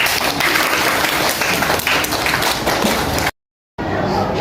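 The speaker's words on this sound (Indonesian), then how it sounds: "Tepuk tangan buat teman-teman ini." Applause from a classroom of students during a teaching session, steady dense clapping that fills the room for about three seconds, then a brief dropout before it resumes.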